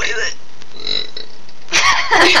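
Loud, voiced human burps come in two croaking bursts close to the mic, the second longer and rougher, with quieter vocal sounds between them.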